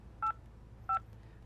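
Two short, clean push-button tones as a phone number is keyed on a telephone in the video game Escape Academy, evenly spaced and clear over a quiet background.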